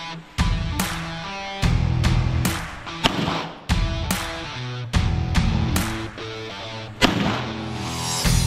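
Gunshots ring out at a firing range, about a dozen loud sharp reports spaced irregularly, each with a ringing decay, some close together and others separated by brief pauses.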